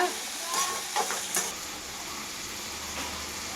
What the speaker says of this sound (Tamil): வெங்காயம், தக்காளி நல்லா வதங்கி வரணும்